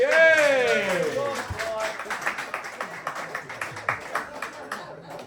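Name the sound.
pub audience applause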